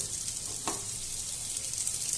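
Steady, quiet sizzle of lentil cakes for dhokar dalna frying on a flat griddle, a soft hiss throughout with one brief scrape partway through.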